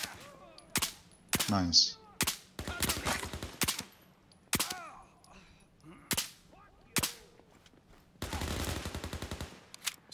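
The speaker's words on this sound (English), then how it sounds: "They are shooting." Sharp bursts of gunfire crack out in Overkill's The Walking Dead, single shots and rapid volleys separated by short gaps, loud and close, with a brief spoken word among them.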